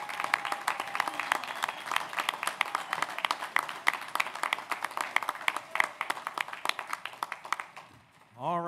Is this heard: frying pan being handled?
no